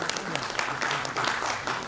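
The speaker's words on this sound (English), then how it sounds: "Please welcome him with a huge round of applause" An audience at a leadership summit applauds as a panel facilitator is welcomed on stage, dense steady clapping throughout, with a voice speaking over it.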